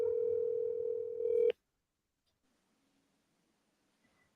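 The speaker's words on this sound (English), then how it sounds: "So here's the phone ringing" Outgoing telephone call ringing on the line: a single steady electronic ring tone holds for about a second and a half, then cuts off into near silence.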